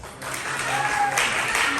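Applause from a comedy show audience, a steady dense round of clapping held at an even level throughout, with a voice talking faintly underneath.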